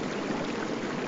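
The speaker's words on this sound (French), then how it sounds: "Krinagos et Ivelios, vous entendez déjà un bruit d'eau qui court" Running water rushing like a fast waterfall feeding a small stream in a forest clearing, a steady, dense, moderately loud hiss with no pauses or voices.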